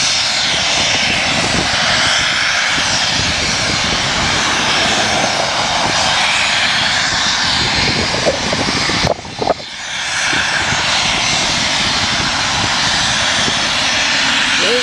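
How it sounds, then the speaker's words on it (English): Gas blowing off from a pipeline at a well head, a loud continuous roaring rush that holds steady throughout, with a brief dip and a few knocks midway before resuming. "So this is gas blowing off from the pipeline over here."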